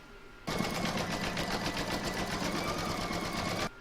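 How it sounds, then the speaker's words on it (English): A computerised embroidery sewing machine stitches round number 7 of a reversible acorn placemat in green thread, a fast, even rattle starting abruptly and running steadily for about three seconds before stopping. "I've put my matching bobbin and thread back into my machine, and that's the green, and I'm now going to stitch round number 7"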